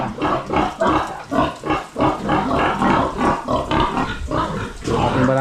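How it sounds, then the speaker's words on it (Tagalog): A very large, aggressive boar pig on a farm grunts loudly and close by, a steady series of deep guttural grunts and snorts in quick irregular bursts, heard on its own. "Yung ating barako dito mga kaprobinsya, oh. Napakalaki na, tapos matapang na daw."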